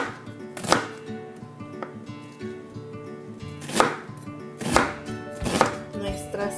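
A knife chops onion on a cutting board in distinct, irregular, close-up thuds, spaced a second or so apart.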